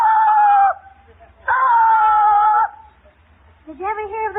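A performer on a live radio theatre show imitates a cat with his voice, giving two long, loud wavering meows and then the start of a third, each clear and close with short pauses between.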